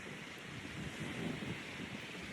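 Steady broadband wash of ocean surf and wind at the shore, continuous and fairly loud with gentle swells rising and falling, wind buffeting the microphone throughout and no voices.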